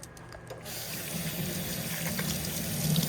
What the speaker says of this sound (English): Let me wash my hands again real quick.